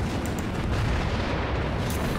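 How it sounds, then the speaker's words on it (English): Secondary guns on the Japanese battleship Myogi firing at point-blank range in World of Warships, a dense, loud rumbling barrage of booms with a few sharper cracks, no voices. "Secondaries are opening up."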